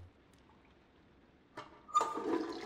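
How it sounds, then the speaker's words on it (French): Toilet flush in the video game Heavy Rain: after a quiet stretch, a click and then a rushing surge of water rising abruptly and continuing, fairly close. "Ah, par contre, toi, tu tires la chasse d'eau."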